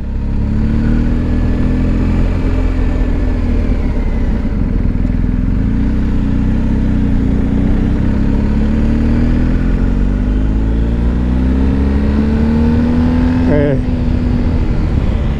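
A large BMW R 1250 GS twin-cylinder motorcycle engine throbs steadily at low revs, close and loud, with a brief rev and drop near the end.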